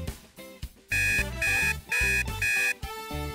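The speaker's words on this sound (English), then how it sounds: "Oh, there's the alarm now." Toy alarm clock ringing in a children's bedroom play scene: four loud, evenly spaced electronic bursts of bright beeping tones, each lasting about a third of a second, after some quieter toy sounds.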